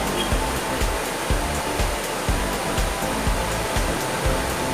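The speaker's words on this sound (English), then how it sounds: "I'm enjoying the sound of the gushing water." Loud, continuous rush of river water gushing, broadband and steady, with faint rhythmic thumps underneath; no voices.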